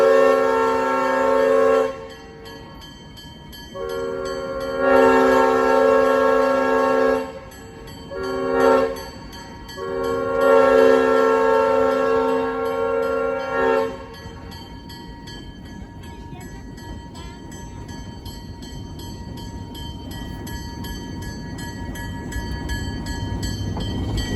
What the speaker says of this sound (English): You're gonna hear the crossing whistle again.